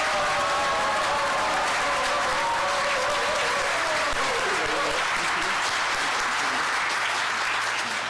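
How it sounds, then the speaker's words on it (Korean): Applause at a political party's New Year press conference, a loud continuous roar of clapping from the room with a faint murmur of voices running underneath. "힘찬 박수 부탁드리겠습니다."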